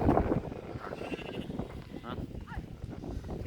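Sheep bleat on a red-soil farm near Penugonda, wavering calls rising over someone talking close by, with a loud burst at the start and further bleats later.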